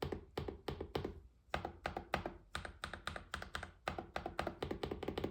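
Rapid, steady typing on a GravaStar V60 Pro keyboard fitted with metal keycaps, close up and crisp, with sharp clacky strokes in quick bursts and brief pauses between runs.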